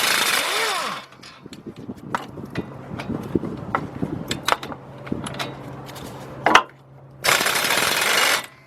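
Brake bracket bolts on a 2003 Chevy Trailblazer front hub loosened with an 18 mm wobble socket on a rattling air impact wrench, a loud opening burst, then softer clanking and a final loud buzzing burst.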